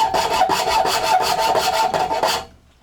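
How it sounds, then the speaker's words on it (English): A Shinto rasp shapes the edge of a mass-produced wooden saw handle with rapid rhythmic strokes, about a dozen coarse scraping passes, close and loud, ending abruptly. "I'm going to come in with my Shinto rasp here"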